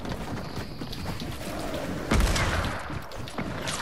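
Burst of video game gunfire in Fortnite, a sharp loud volley midway that decays into a rattling tail over steady background game noise.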